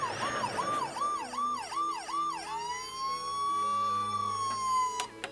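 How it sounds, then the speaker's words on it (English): A Playmobil toy ambulance plays its electronic siren: a fast, repeated wailing warble of about six cycles, then a single long steady tone, loud and close with no voices over it. "here's our ambulance with lights and sounds, as you heard and saw"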